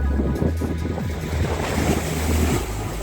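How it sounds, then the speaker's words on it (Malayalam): Sea waves surging onto the shore below the White Cliffs of Dover in October, a steady rough roar of surf with gusty wind buffeting the microphone throughout, no voices. "നല്ല തിരമാല ഉണ്ട് കേട്ടോ"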